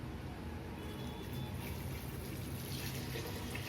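Water is poured into a pressure cooker of rice, vegetables and pulses for khichri, giving a steady, close splashing and filling sound throughout with no talk over it.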